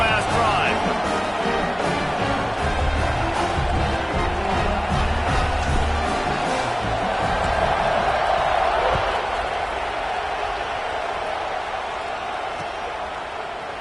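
Stadium crowd at a college football game between FSU and Alabama, a loud continuous roar of cheering during a kickoff, heard at a distance beneath a commentator talking throughout.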